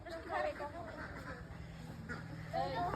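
A few nasal quacks from ducks nearby, in short bursts at the start and end, over a quiet background hum.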